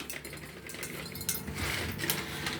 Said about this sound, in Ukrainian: Перчику чорного горошку. Ну, я буду сипати так, як я звикла.